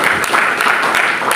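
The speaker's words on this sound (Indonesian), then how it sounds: "Berikan tepuk tangan bagi dia." Church congregation clapping during a fasting prayer service on Mount Salak, a continuous broadband patter of many hands, fairly loud and even throughout with no distinct voices.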